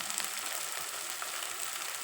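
Nang fish curry simmering and sizzling in a pan, a steady soft frying hiss with faint stirring scrapes, fairly quiet and continuous throughout with no talking.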